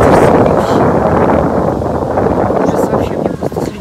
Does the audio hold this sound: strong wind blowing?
yes